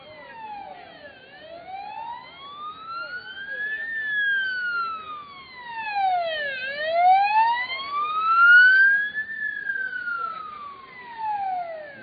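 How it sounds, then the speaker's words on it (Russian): Wailing emergency siren of an ambulance passing through a crowd at a street rally, sweeping up and down in long repeated cycles, loud and fairly close, with faint crowd voices underneath. "Скорую пропускаем. Пропускаем скорую."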